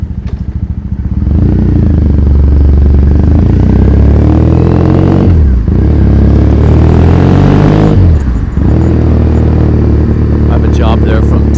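A motorcycle rides through Tokyo streets toward the Kagurazaka area, its engine loud and close, droning steadily with two brief dips as the throttle eases off and then picks back up.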